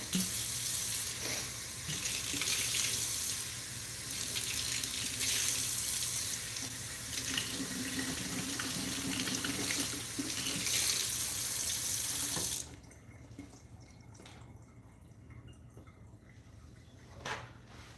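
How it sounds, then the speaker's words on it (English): A kitchen tap runs steadily for about twelve seconds as something is rinsed out under the stream, the broadband rush of water loud and close before it cuts off, leaving a quiet room with a faint knock near the end. "Let me just rinse this out."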